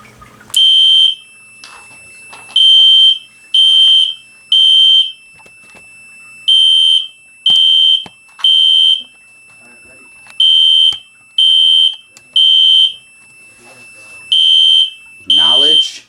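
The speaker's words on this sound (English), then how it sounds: "when I push the button on the test switch on the smoke detector, the light turns red and then the alarm starts sounding" A fire alarm sounding during a smoke detector test on a Notifier SFP-10UD conventional fire control panel: a loud high electronic tone pulsing in about a dozen evenly spaced bursts, with brief quiet gaps and faint handling noise between.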